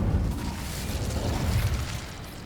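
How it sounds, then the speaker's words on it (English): Incendio fire spell from Hogwarts Legacy setting dry vines ablaze: a steady, roaring crackle of burning rushes along without pause, loud and close, easing off slightly at the finish. "These dry vines are one spark away from becoming kindling. Incendio!"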